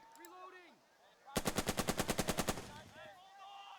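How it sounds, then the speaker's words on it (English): A video game MP40 submachine gun laying down suppressive fire: a loud, even burst of about a dozen rapid shots lasting just over a second, set among synthetic game tones and effects. "MP40 SMG. Oh no. Suppressive fire."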